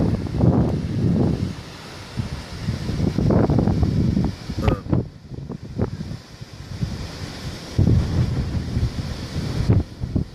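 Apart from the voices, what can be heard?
strong wind blowing on the Cornish coast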